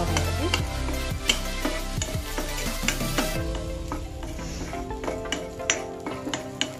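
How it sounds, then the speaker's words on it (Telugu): Sago frying in ghee in a pan, a continuous sizzle with rhythmic stirring scrapes and occasional utensil taps on the pan, close and steady, without speech. "నేతిలో ఫ్రై చేసుకుంటే"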